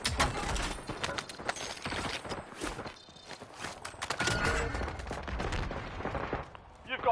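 Enemy gunfire in Warzone, a run of rapid overlapping shots and bursts with clattering impacts, dense and fairly close, with some voice chatter mixed in.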